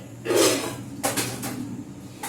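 A large, heavy iron kadhai being handled in a home kitchen, giving a few close metallic clanks and knocks, one longer scrape followed by two shorter bumps.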